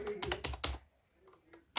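Typing on a computer keyboard in a home room: a short burst of several close, sharp key taps in the first three-quarters of a second, then near quiet with a couple of faint taps.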